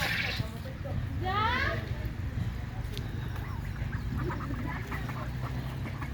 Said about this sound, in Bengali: সানিয়া এই যে হাঁস